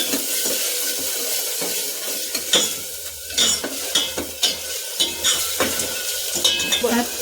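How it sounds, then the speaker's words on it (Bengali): Rice and lentils being fried in a pan, a soft sizzle under frequent metal spoon scrapes and clinks against the pan, irregular and close. "চাল ডালটা আমি একটু ভেজে নিই।"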